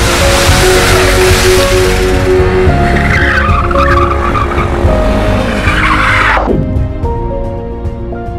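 A Formula-style student race car drives on a track with a loud, continuous engine note and sustained tire squeal as it skids through a turn, the sound changing abruptly near the end.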